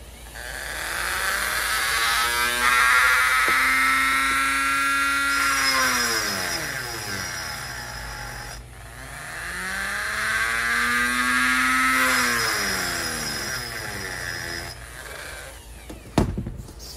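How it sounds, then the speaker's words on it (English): DEPSTECH DM180 rotary tool pressed against a piece of pipe, its high motor whine dropping and rising in pitch twice as the load bogs it down and then releases, close and loud, ending with a sharp clunk. "I'm gonna push down on the multi-tool and a piece of pipe. I'm gonna see where I can get the motor to stall."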